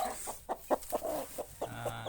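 A chicken clucks in a series of short, soft, irregular notes, fairly close, with no talking.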